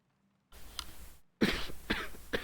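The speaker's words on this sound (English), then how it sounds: "It's not always possible to mute before I cough." A person coughs in two short bursts close to the microphone, the second louder and rougher, after a moment of near silence.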